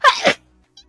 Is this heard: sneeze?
yes